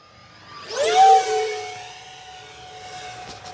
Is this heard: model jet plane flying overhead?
yes